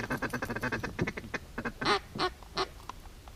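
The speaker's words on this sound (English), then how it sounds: "I think it's a drake." A mallard drake quacks before sunrise during a duck hunt, a rapid string of short quacks followed by a few louder, drawn-out calls, fairly close and otherwise quiet.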